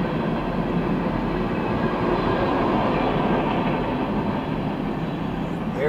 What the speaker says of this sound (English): There you go with Norfolk Southern 69N empty sand fracking train hoppers